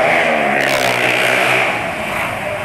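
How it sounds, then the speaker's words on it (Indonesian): A motorcycle's exhaust revs loudly and steadily, a dense continuous engine roar that swells and holds throughout with no talk over it. "Ya barusan suara motor knalpotnya ya sampai gak krungu liane itu"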